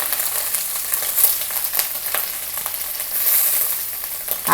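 Grated coconut being sautéed in a pan on low heat for egg kulambu, giving a continuous close sizzle with occasional soft stirring scrapes throughout.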